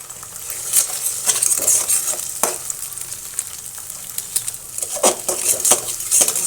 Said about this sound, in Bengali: এখন ভাত ভাজি করবো মাংসের জন্য একটু